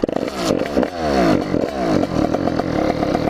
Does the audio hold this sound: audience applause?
no